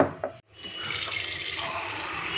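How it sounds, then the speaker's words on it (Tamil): A small amount of water is poured onto fenugreek seeds to soak them, making a short clatter, a brief gap, then a steady, close, continuous splashing stream with no voices. "கொஞ்சமாக தண்ணி ஊற்றி வச்சுட்டோம்"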